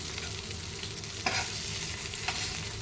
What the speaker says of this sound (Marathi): आणि आतपर्यंत मस्त शिजतात या मिरच्या वाफेवर